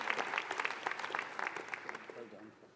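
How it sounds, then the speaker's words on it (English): Applause and cheering from the audience at a medical school conferring ceremony, a burst of clapping that tapers off over a few seconds, with voices speaking over it. "Abdul Latif Al Jadi, That was a big cheer."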